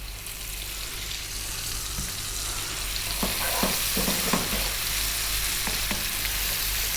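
Chopped onion and ginger garlic paste sizzling steadily in a hot pan for a Kerala beef curry, with a few scraping stirs and light clatter partway through and no talk.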